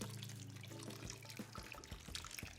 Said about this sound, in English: add my vinegar